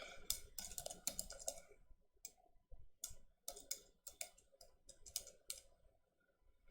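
Rapid bursts of clicking keystrokes on a computer keyboard, close and fairly quiet, arriving in uneven clusters with short pauses between flurries of typing.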